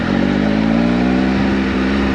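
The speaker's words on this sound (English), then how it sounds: "Really smooth engine." A 2019 Triumph Speed Triple RS three-cylinder motorcycle engine revs steadily and loudly up close, a smooth continuous drone with a slightly rising pitch and no speech.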